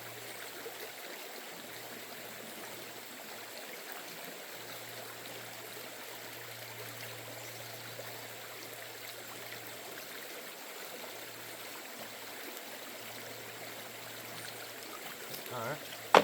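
Swift creek water rushes past a gold panning spot after a flood, a steady, unbroken broadband roar at moderate level with a low hum beneath, ending in a brief louder splash.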